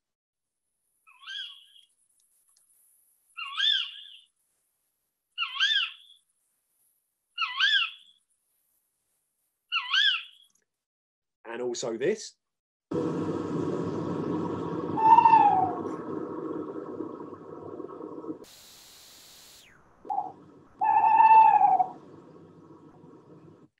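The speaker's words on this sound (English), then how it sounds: "I'm sure you all know that that is a tawny owl" Several separate tawny owl calls ring out one after another in a quiet night garden, followed by a longer stretch of hooting over a hum, with a brief spoken line.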